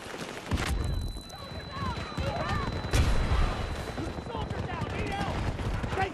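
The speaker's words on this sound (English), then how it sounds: "They're shooting at me!" Gunfire crackles and booms through a Battlefield 2042 firefight around a capture point, with dense overlapping shots and a couple of heavier blasts under constant excited talking.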